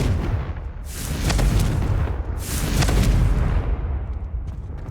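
A Confringo blasting spell from the Hogwarts Legacy video game erupts in two loud, broad booming bursts in quick succession, each a roaring explosive whoosh over a sustained low rumble, with no talking.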